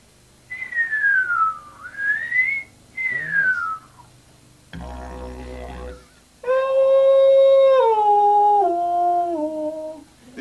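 Whistled phrases trace the harmonic scale that whales are said to use, first sliding up and down in a few short separate calls, then after a brief noisy gap a long, loud, steady whistle that steps downward in pitch.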